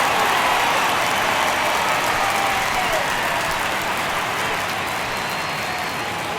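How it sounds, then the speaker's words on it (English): A packed baseball stadium crowd at an NLDS playoff game between the Braves and Phillies keeps up a loud, continuous roar and cheering in a tense ninth inning, with a commentator talking over it. "Crowd locked in right now."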